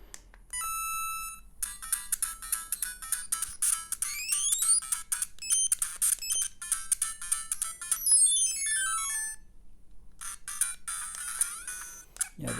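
Tinny beeping tunes and chirpy sound effects from a Nintendo Game & Watch Super Mario Bros. 3 handheld, with rapid bleeps, rising and falling pitch sweeps and short melodic runs, separated by brief pauses, thin and shrill with no talking.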